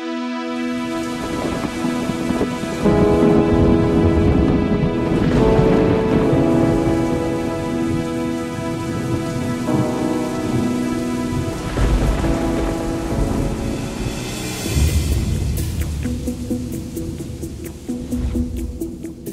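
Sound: thunderstorm with heavy rain

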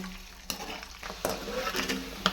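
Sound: eggs frying in hot oil

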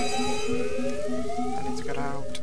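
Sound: fire alarm ringing in the video game Jazzpunk

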